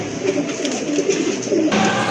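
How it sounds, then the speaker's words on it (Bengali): A pair of Black Gold Suachandan pigeons cooing close by, steady soft repeated coos running through, with no talk. "অসাধারণ দেখার মতো এক জোড়া কবুতর সুয়াচন্দন না ভাই ব্ল্যাক ব্ল্যাক গোল্ড সুয়াচন্দন কবুতর"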